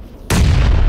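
A PUBG grenade detonates on a fog-covered map, a single abrupt and loud nearby boom cutting in after brief quiet and sustaining a deep, rumbling roar.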